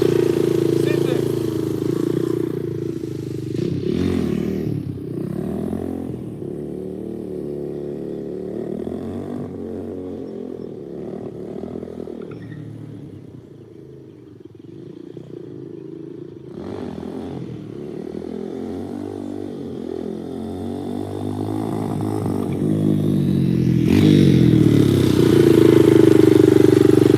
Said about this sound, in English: you can just carry that wheelie. First gear,